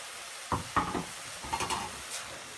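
Garlic and onion frying in a pan are stirred with a few distinct scraping strokes of a utensil over a faint, low sizzle, close and fairly quiet.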